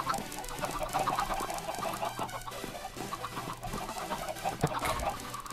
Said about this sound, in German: Ach, die extra Chicken.